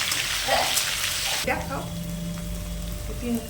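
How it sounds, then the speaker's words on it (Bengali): Chopped onion and green chili fried in hot oil with black cumin and ginger paste, a steady close sizzle that swells as the pieces hit the oil, with light stirring. "পেঁয়াজ আর লঙ্কা কুচিটা তেলের মধ্যে দিয়ে মামনি হালকা করে নেড়ে নিচ্ছে"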